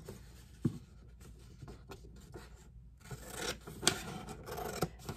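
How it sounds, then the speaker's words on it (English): Scissors cut through paper while a Venn diagram foldable is trimmed, giving close, dry snipping and scraping rustles in uneven bursts, with louder snips near the middle and end and no talking. "So you'll take out a pair of scissors."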